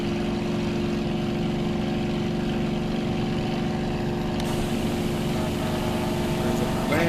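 A steady aircraft engine drone at full throttle just after lifting off the runway in World Flight VR, a continuous loud hum with strong low harmonics, running alone without pauses.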